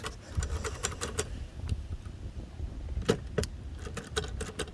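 A 1933 Underwood four-bank portable typewriter typed on outdoors, giving bursts of sharp mechanical key strikes with short pauses between clusters, close and fairly loud over a soft background.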